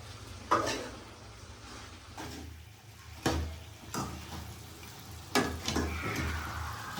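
Chicken pieces frying in oil for a Rayalaseema-style chicken fry, a low steady sizzle running throughout with a few sharp clatters and stirring knocks from the pan, no talk.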